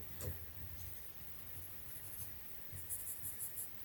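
Pencil rubbing on paper during a portrait sketch, heard as soft, quiet scratchy strokes in uneven bursts, close and without speech.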